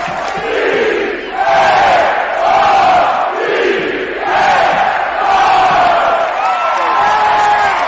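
A loud crowd cheer sound effect played from a soundboard, with whooping and shouting voices rising in repeated swells across several seconds.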